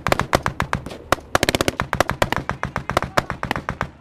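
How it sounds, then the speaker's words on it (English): Sustained covering gunfire from Estonian forces on a ridge by a police checkpoint during a firefight with the Taliban in Afghanistan: rapid bursts of sharp automatic shots, loud and close, with irregular single cracks overlapping through the stretch. "Estonian forces on the ridge by the police checkpoint are able to give us covering fire"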